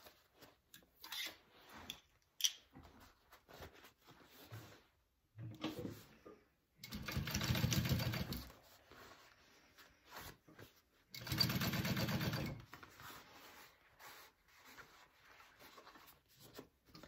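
A sewing machine top stitches a handbag in two steady bursts of a few seconds each, separated by quieter handling and rubbing of fabric, with no talking.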